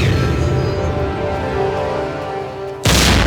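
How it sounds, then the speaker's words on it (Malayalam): A single loud gunshot-like bang bursts in near the end of a TV serial scene set at a film shoot, abruptly cutting across a stretch of steady tonal music. "എന്താ വെടിപ്പൊട്ടുന്ന ശബ്ദം കേട്ടത്?"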